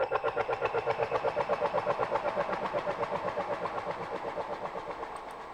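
Synthesizer patch in Cubase 14 with shimmer enabled pulses in a steady, rapid rhythmic throb, layered and bright, moderately quiet with no talking.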